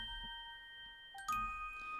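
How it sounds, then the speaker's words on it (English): A keyboard's Orgle preset, a small bell voice, plays sustained, shimmering chiming tones, with a brighter new chord struck partway through that rings on at moderate volume with no talking. "it's got a sound called Orgle, which is nothing to do with an organ. It's this lovely little bell sound."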